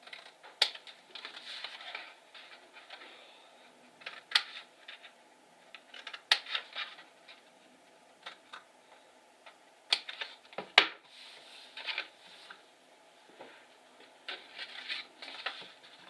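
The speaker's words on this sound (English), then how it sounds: "we are going to cut up this way, and we're going to just notch in on our tabs" Card stock is cut and notched for a handmade gift box, a string of sharp snips and crisp clicks at irregular intervals with soft paper rustling between them, close and fairly quiet.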